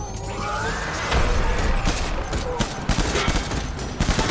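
Gunfire rattles in the video game Death Stranding as dense, overlapping bursts and sharp cracks of automatic shooting, loud and continuous with clanking mechanical noises mixed in.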